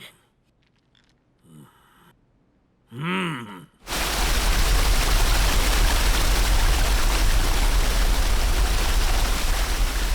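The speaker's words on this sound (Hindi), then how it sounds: "झरने का छीटा मस्त आ रहा है" A waterfall's spray roars in as a loud, steady broadband rush that fills the scene after a few soft breaths and groan-like vocal sounds.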